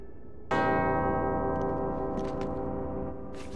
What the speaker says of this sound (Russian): Два колокола звучат в унисон.